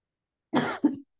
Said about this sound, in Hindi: आपको तो खांसी आ रही है बहुत